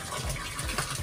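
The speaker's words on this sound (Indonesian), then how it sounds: "Jadi nanti kita isi tandon seperti ini." Water drawn from a river upstream pours steadily into a storage tank at a Siam Madu citrus orchard, a continuous close rushing gush with low gurgling pulses and no talk.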